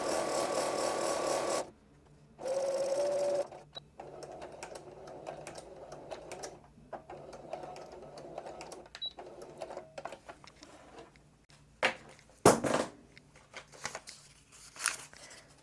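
A sewing machine stitches a homespun fabric rag quilt in short bursts of quiet whirring, separated by pauses filled with faint rustling and handling clicks.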